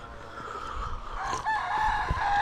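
Chickens cluck nearby on a small farm while a rooster crows loudly over them, a farmyard chorus with no voices.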